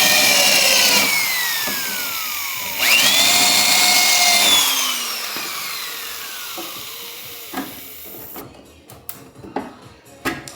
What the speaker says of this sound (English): Those definitely gotta be drilled a little bit more.